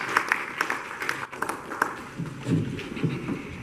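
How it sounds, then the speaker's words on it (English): Conference audience at a cybersecurity event applauding a speaker's welcome, scattered moderate clapping that is fairly distant and uneven, with some murmuring in the room. "A round of applause for her."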